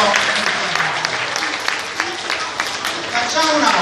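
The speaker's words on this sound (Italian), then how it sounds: "fatemi un applauso a tutti perché siete stati davvero." Classroom applause from a group of students, a steady dense patter of many hands clapping together throughout, moderately loud and close, with faint voices mixed in.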